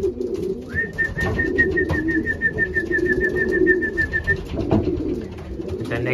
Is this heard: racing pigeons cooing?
yes